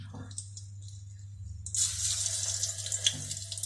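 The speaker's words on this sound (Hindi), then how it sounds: "अब मैं आलू डालने लगी हूँ, एक एक करके डालती हूँ।" Potatoes are dropped into hot oil in a kadai for Kashmiri dum aloo, setting off a sudden, loud hissing sizzle that keeps crackling close by after a quiet hum.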